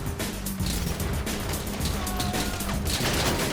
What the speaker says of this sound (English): they attacked us with fireworks